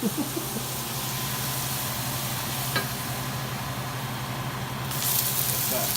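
Onion and garlic frying in a small pan in a tiny kitchen, a steady close sizzle with a low hum throughout, briefly louder and brighter near the end as the pan is stirred.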